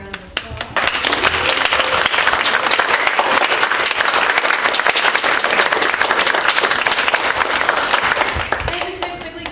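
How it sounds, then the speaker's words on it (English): Theatre audience giving the cast of a Pride & Prejudice performance a warm round of applause: dense, loud, steady clapping from a crowd that swells in quickly and holds for nearly ten seconds before easing off. "I'd like to begin by giving the actors a nice warm round of applause."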